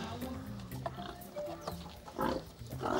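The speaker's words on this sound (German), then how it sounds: "Schweinedame Tinkerbell läuft schon das Wasser im Mund zusammen" A pig at an animal shelter grunts and snorts during its afternoon feeding, with short irregular grunts close by over a steady background of pen noise and rustling.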